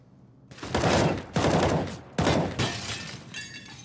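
Rapid gunfire bursts ring out in a Counter-Strike match on the Train map, three loud, dense volleys roughly a second apart with a brief ringing tail, no voices.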